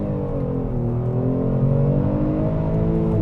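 A 2021 Kia Stinger GT accelerating hard from a launch control start, the engine's note climbing steadily in a loud, close, continuous rising drone with no voices.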